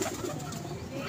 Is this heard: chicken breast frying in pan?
no